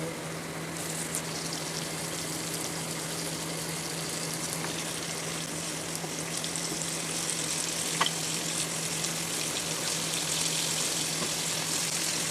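Sliced pork hits a hot pan with curry paste for a Thai stir-fry, producing a steady, loud sizzle and spatter throughout with slight stirring noises.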